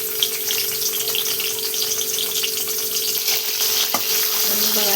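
Tomato frying in a kadhai for a prawn curry base makes a loud, dense, continuous sizzle up close, with stirring scrapes and a steady background hum, and no one speaking.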